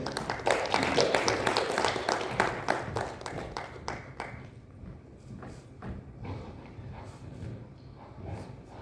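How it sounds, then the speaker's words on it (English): Audience applause in a hall, welcoming a professor to a panel discussion on the therapeutic value of aesthetics. Dense clapping fills the room at first, then thins to scattered claps and fades over several seconds. "Let's give a big round of applause."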